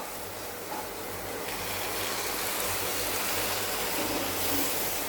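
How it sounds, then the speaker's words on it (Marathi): Water is poured into a creamy egg curry whose yolk has thickened the gravy, giving a steady, even rush of pouring and splashing that lasts throughout, close and unbroken, with no voices. "आता आपण ह्यात थोडं पाणी घालणार आहोत"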